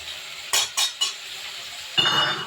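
Spice paste for an egg curry is stirred as it fries in a pan: three quick scraping strokes, a short pause, then a louder sizzling scrape, all close by.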